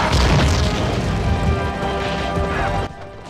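Explosion blast in the PS2 game Spider-Man 3, a loud broadband boom with crashing debris that rumbles on for about three seconds before cutting off abruptly.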